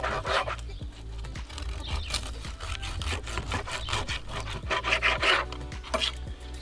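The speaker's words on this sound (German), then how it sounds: "Die schneiden wir jetzt nochmal in drei Scheiben." A knife cuts a thick slab of roasted pork belly into three slices on a board, giving a close, continuous scraping and crackling rasp with repeated sawing strokes, with no talking.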